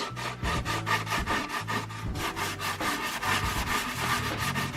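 A surface is scrubbed hard with Koh cleaner in rapid back-and-forth strokes, a steady rhythmic rasping rub that is close and continuous with no talk.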